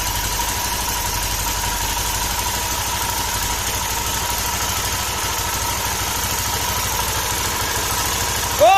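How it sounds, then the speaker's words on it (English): Classic British Armstrong MT500 motorcycle engine running on choke, a steady low throbbing idle with constant vibration that carries on unbroken, close and fairly loud, before a brief rising whine at the very end. "Bit of choke, bit of choke."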